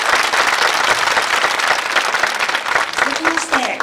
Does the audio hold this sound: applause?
yes